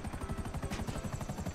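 A helicopter in the video game GTA 5, with a rapid, evenly pulsing rotor chop and a whining turbine running steadily throughout, close and fairly loud, with no talk over it.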